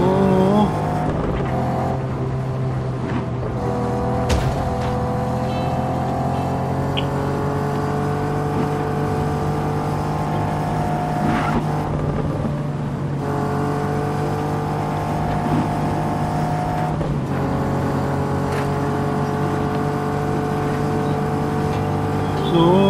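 Car racing at high speed in the video game Just Cause 3, a loud continuous engine drone that rises in pitch through repeated gear shifts, with brief bumps and knocks.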